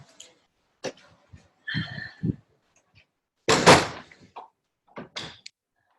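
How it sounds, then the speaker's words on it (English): A front door blown open by gusting wind, heard as a sharp bang followed by a louder, longer clatter and rattling, with quieter knocks in between and near silence around them. "my front door blew open."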